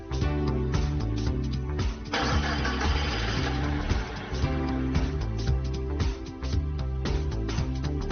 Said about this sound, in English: Then insert the key into the key switch and start the engine.